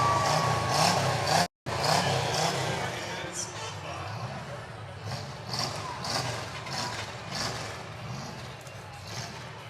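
A race car built from a converted 1980s station wagon runs with a slight misfire, its uneven engine rumble heard at a moderate distance under people talking, with a brief dropout in the sound.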